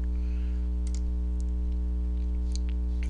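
A few sparse, quiet keystrokes on a computer keyboard tick over a constant electrical hum while data is entered in admin software.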